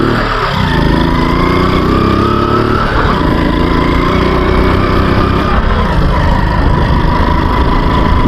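A Kawasaki motorcycle engine runs steadily and loud for the whole stretch, with a continuous close drone and a slight rise in pitch near the start and again around the middle.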